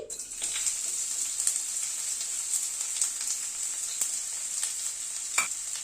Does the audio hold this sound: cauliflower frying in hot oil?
yes